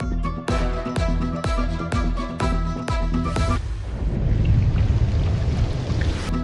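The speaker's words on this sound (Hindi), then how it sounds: "शहर के मुख्तलिफ इलाकों में मूसलाधार बारिश।" Heavy torrential rain pours across city districts including Baghbanpura, Mughalpura, Township and Gawal Mandi, a dense, steady broadband hiss that takes over after a short burst of musical stings.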